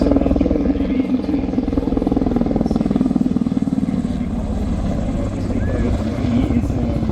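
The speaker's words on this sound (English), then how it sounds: "to fly this mighty helicopter that you see before you this afternoon" A Navy helicopter's rotor thumps in a fast, steady pulse over a loud engine drone at an airshow, close and continuous throughout.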